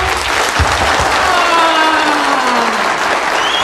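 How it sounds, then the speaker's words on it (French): Sustained audience applause at a youth gathering against tribalism, a dense, steady wash of clapping that holds loud and even from start to finish, with crowd noise mixed in and a faint voice beneath. "Applaudissons pour vous-même maintenant."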